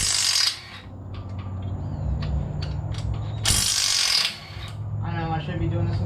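Ratchet socket wrench clicking as it works on a junkyard LS engine, a close, steady series of rapid pawl clicks in bursts with brief tool clatter between them.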